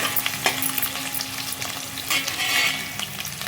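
Paneer cubes fry in a hot pan with a steady, close sizzle and a few brief stirring scrapes, with no voices over it.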